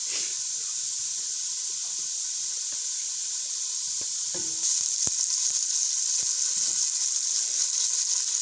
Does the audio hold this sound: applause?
no